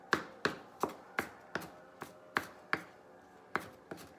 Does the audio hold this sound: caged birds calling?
no